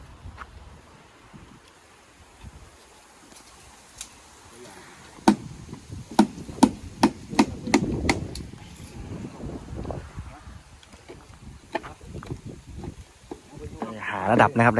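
Sharp repeated impacts of hammering a fence post ring out in a cluster of about a dozen hits, loud and close, with outdoor rustle and some voices around them.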